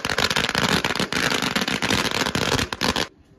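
A string of firecrackers bursts on Chinese New Year's Eve, a loud, dense, rapid crackle of small explosions going off one after another that ends abruptly after about three seconds.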